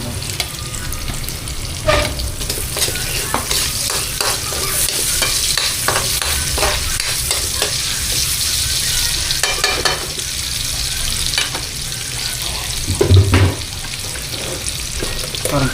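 Garlic and onion frying in a pan, a loud, dense, crackling sizzle running throughout with frequent scraping stirs and clinks of a utensil, close up and without speech.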